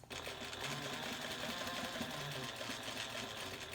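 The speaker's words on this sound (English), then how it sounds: "I'm just sewing straight to the other seam." A sewing machine runs steadily and close by, stitching a seam through black and pink vinyl with a continuous, even mechanical hum and no pauses.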